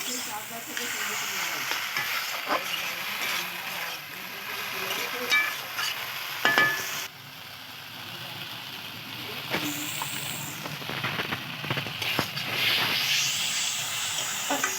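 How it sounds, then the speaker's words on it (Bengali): A cucumber, potato and prawn curry is stirred in a pan, with a spatula scraping and shuffling through sizzling food and a steady background hiss that runs throughout. "দেখেছো বন্ধুরা কী সুন্দরভাবে নাড়ছি আমি"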